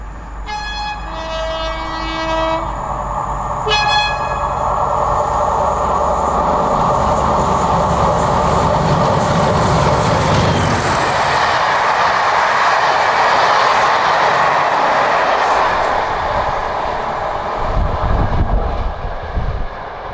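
An elderly diesel locomotive roars past at speed through Penrith, its horn sounding at the start before the engine and rattling wagons swell loudly and then fade.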